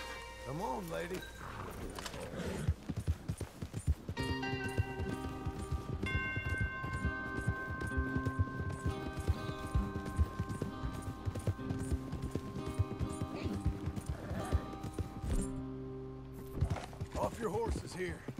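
Horse hooves clip-clop along with neighing in a western riding scene, mixed under music and voices, fairly close and busy throughout.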